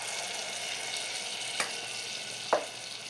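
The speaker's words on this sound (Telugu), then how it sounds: "ఈ పోపులోకి ఈ టమాటా ప్యూరీని వేసేసుకుందాం." Tomato puree meets hot tempering oil in a pan, giving a soft continuous sizzle with two brief louder splashes or stirs partway through, alone without talk.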